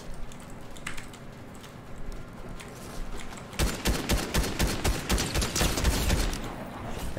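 Rapid gunshots in a shooting video game, starting as faint scattered pops and then breaking into a loud, fast burst of repeated shots in the second half.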